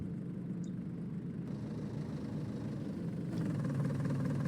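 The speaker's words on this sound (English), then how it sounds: "Just go steer the tractor down the field." A tractor engine in a farming video game drones at a low, steady idle throughout, growing slightly louder near the end, with no talk over it.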